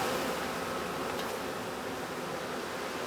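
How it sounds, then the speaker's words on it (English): Heavily laden honeybees arriving at their hive in the Balkans during peak sage bloom, a dense, steady hum of many wings blended with a broad airy hiss, close and continuous. "With great effort, the heavily laden bees reach their hive."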